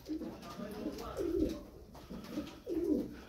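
Turkish play pigeons coo in soft, repeated throaty phrases, close by and fairly quiet, with a low murmur of background noise between calls.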